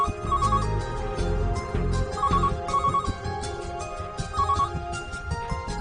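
A phone ringtone rings in a Saraiki drama scene, its repeating melodic chime cycling steadily several times over a busy background, fairly loud with no talking over it.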